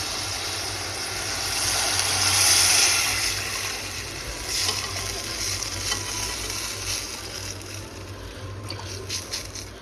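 Boiled village-style spicy mutton soup poured into hot tempering in a pan, giving a steady hissing sizzle that swells in the first few seconds and then settles into a softer bubbling fry, close and unbroken.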